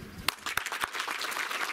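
Audience applause at a ceremony where a prefect hands out computers to students: a dense, steady patter of many hands clapping, with a few sharper claps standing out near the start.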